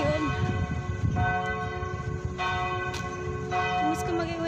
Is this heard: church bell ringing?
yes